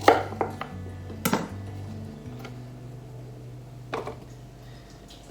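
A knife chops fresh turmeric on a board in a few sharp, irregular strikes, fairly close, with a low steady hum underneath and no talking.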